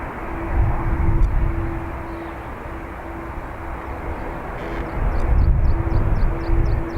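A jet airliner taking off from Dublin Airport, heard as a steady, broad engine roar close by that swells and fades slightly, with no talk over it.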